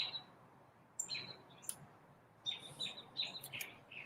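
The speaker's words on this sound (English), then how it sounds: "Oh, I hear birds." Small birds chirping outdoors on a chilly morning, several short high tweets scattered across a few seconds, faint and at a distance over a quiet background.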